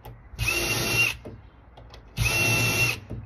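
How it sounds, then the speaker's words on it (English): A power drill fitted with a centre drill whirs in two bursts of under a second each while drilling a hole for a door latch, close and loud with a brief pause between runs. "you're just grabbing your drill with your central drill in it"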